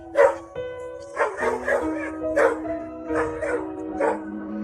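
A dog barks repeatedly at close range in loud, irregular bursts mixed with yips and whines, as if chasing after an ambulance.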